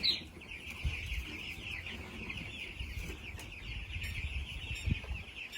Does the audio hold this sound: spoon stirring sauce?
no